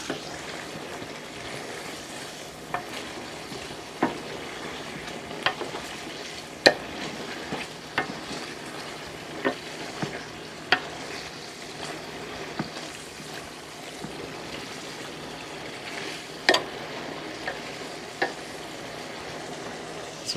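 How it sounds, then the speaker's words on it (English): Zucchini curry with chopped parsley fries and simmers in a pan, giving a steady soft sizzle with scattered light clicks of a spoon stirring, all fairly quiet and without talk. "give it a stir"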